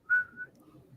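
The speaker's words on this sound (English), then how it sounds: "When he whistles this tune, the time for killing begins." A killer's short whistled note from the 1983 horror film Angel, one clear rising tone followed by a fainter second note, heard alone and fairly quiet.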